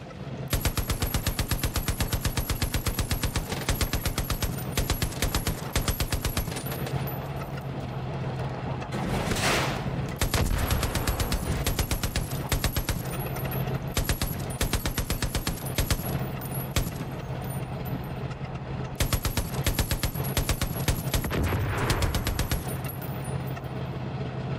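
Rapid bursts of automatic gunfire in the video game Far Cry New Dawn, loud and nearly continuous, with brief pauses between volleys and vehicle engine rumble underneath.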